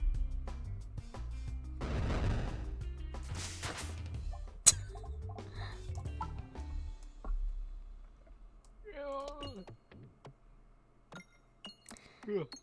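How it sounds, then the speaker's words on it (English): Bombs going off in a video game, a loud rumbling burst of explosions followed by sharp pops and clinks that thin out, with someone talking over it. "Here come the fucking bombs"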